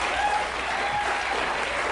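A television studio audience bursts into dense, sustained applause with scattered whoops and cheers, loud and continuous for the whole stretch.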